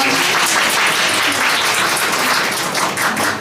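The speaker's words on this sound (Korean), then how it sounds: "여러분 큰 박수 부탁드립니다." Dense, steady applause from a book-concert audience in Seoul welcoming a guest politician, loud and sustained for several seconds with no talk over it.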